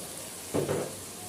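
Green and red peppers stir-fry in a pan for homemade shawarma, a faint steady sizzle with a brief louder scrape and hiss as they are tossed midway.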